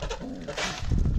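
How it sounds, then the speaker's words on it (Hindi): Pigeons coo softly at close range, a short, low, throaty murmur against faint background noise. "ये नए कबूतर आ गए हैं और इनका एक बेबी भी है"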